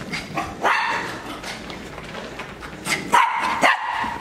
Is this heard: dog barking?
yes